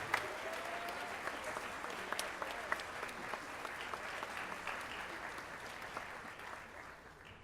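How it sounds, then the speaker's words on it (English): Audience applause at a 7th and 8th grade spring school band concert honoring solo and ensemble participants, a soft, distant, sustained wash of clapping with scattered sharper claps. "give all you folks a nice round of applause for participating in solo and ensemble"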